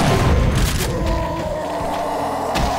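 Gunfire and explosive booms while killing gunner enemies in Doom 2 with the Project Brutality mod, loud and dense, with heavy thumps and cracks over continuous game noise.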